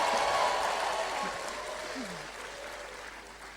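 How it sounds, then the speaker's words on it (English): An audience applauding at a leadership teaching session, a dense wash of clapping that is loudest at first and slowly thins and fades, with a few faint vocal sounds mixed in. "All the queens clap for the big kings around them."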